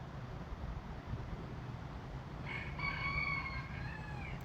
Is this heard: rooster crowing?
yes